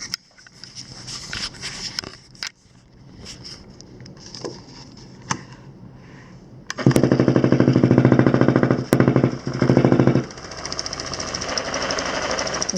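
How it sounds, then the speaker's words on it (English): IGIA Vibroaction electric slimming massage belt with double motor, running with a loud rough grinding and grating buzz that starts up partway through and stays steady, after quieter handling noises and clicks. "you can hear that kind of grinding and grating sound"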